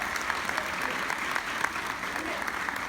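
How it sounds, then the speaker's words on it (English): Steady applause from an audience at a personal storytelling event, welcoming a guest named Carol; dense, continuous clapping holds at an even level for the full stretch with no talk over it. "So a round of applause for her too"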